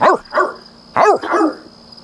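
Four sharp dog barks from the video game The Sims 3, in two quick pairs, loud and near, then quiet apart from a faint background hum.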